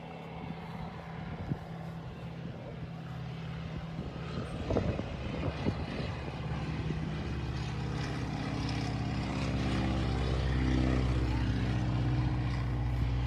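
A propeller aeroplane flies low, at about 400 feet, carrying a charity wing-walker. It makes a steady droning engine roar that grows slightly louder over time, with some wind buffeting and no talking.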